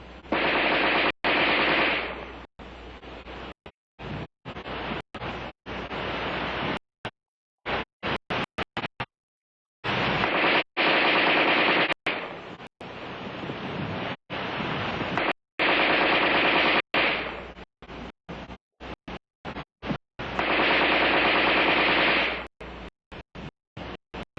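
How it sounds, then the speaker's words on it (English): Armalite AR-10 rifle fires in long, loud automatic bursts, each sustained roar separated by brief gaps and sharp single cracks as fresh preloaded magazines go in, repeating several times with no talk. "The preceding demonstration of rapid fire illustrated the use of preloaded magazines."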